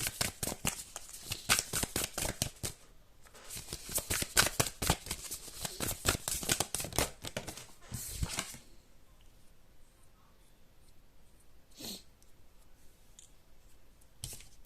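Tarot cards being shuffled for a reading, a rapid papery riffle of repeated flicks for several seconds, then quieter scattered card slaps and taps close by.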